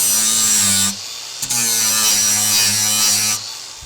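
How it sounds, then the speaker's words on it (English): An angle grinder deburring the cut edges of metal tabs on a battery tray, a loud high whine that cuts off, restarts with a clack and runs steadily before stopping again. "Just going to clean up the excess with a grinder and deburr it."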